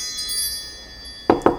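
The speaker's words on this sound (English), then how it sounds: "We'll call in Spirit with some wind chime time." Wind chimes strike twice near the end, two bright clinks a fraction of a second apart, after a stretch of quiet room tone with a faint steady high hum.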